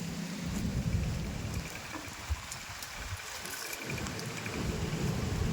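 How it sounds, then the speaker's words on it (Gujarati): Raindrops falling during an unseasonal summer storm with strong wind, a steady patter and hiss over a deep rumbling low end, continuous and moderately loud, with no voices. "જો ટપ ટપ ટપ ટપ છાંટા આવવા મીના"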